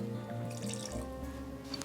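Vanilla extract, about one and a half teaspoons, splashed into a bowl of cream cheese and sugar, giving a brief close wet drip and trickle followed by a couple of small liquid ticks.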